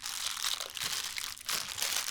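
Crinkly plastic bag and a torn hoisin sauce packet being handled at a Chinese takeout meal, with close, continuous crackling rustles that thin briefly before picking up again.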